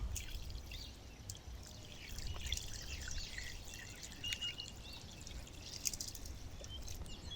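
Water being poured into a pot over chicken for a Thai soy-marinated boil, a steady, moderately close trickling and splashing that runs continuously without pause.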